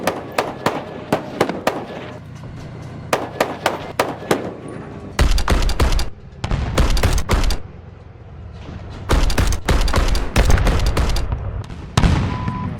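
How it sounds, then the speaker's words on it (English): A Bradley fighting vehicle fires its large caliber gun at a fleeing Russian tank: loud, sharp bursts of rapid repeated shots in irregular clusters, with quieter gaps between volleys. "Bradley's crew boldly overtakes and finishes off one of the Russian tanks that was trying to escape with a large caliber gun"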